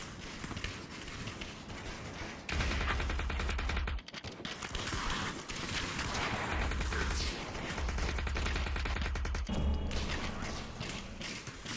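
Rapid bursts of game gunfire from a weapon in the VR shooter AIM XR, loud and close, firing in dense stretches with brief pauses and mechanical clatter between volleys.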